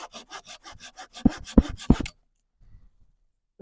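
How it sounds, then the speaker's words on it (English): A hand saw cuts wood branches at an outdoor riverside campsite. Brisk, regular back-and-forth strokes rasp up close, with a few heavier final pulls, then the sawing stops and it goes quiet. "I brought my trusty saw with me."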